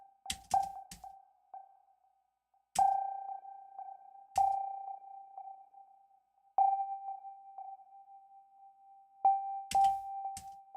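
A glassy synth tone rings and sustains, retriggered by several bright plucky attacks, with sparkling high overtones over a steady pitched hum.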